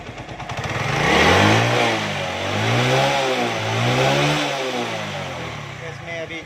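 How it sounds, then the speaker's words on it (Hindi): A motorcycle engine, just retuned at the carburetor, idles slowly with a steady, wavering throb close to the microphone, its pitch gently rising and falling over several seconds. "आवाज़ कितनी प्यारी है अभी मोटरसाइकिल की, बिल्कुल स्लो रनिंग में स्टार्ट है"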